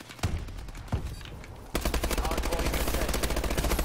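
Rapid automatic gunfire in a video game shooter's hardpoint match on the Compound map: a few scattered shots, then a dense, loud burst of sustained fire that continues steadily to the end.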